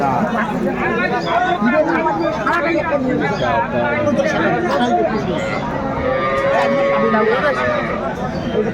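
Cows and calves at a busy rural cattle market low and moo amid a loud crowd murmur, with several people talking nearby throughout.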